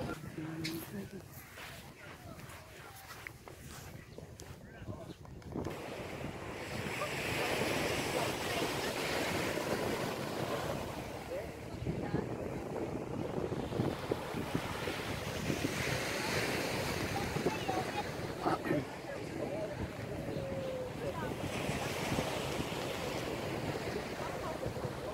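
Surf rolls onto a beach in Sokcho, South Korea, as a broad, steady wash with gusting wind buffeting the microphone throughout, faint background voices mixed in.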